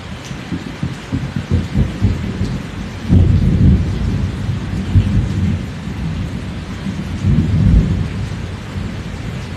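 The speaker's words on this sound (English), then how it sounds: "I wasn't expecting it to rain." Thunder rumbles low and loud beneath steady rain, with several heavier rolling peaks across the stretch and no voices.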